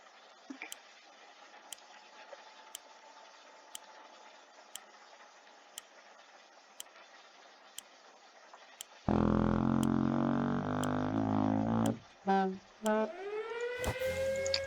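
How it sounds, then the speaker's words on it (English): Civil defense siren in the video game 60 Seconds ReAtomized, faint ticking clicks at regular intervals before a loud siren bursts in and wails, rising and falling toward the end. "So the sirens start"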